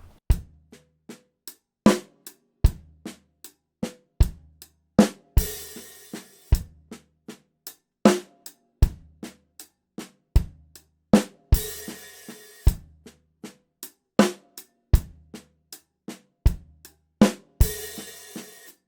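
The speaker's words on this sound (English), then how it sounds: "there's one final detail to add, which is an open hi-hat that goes with the last bass drum" A drum kit plays a slow paradiddle groove, with bright open hi-hat splashes recurring every few seconds alongside the last bass drum of the pattern, steady and close with no talking.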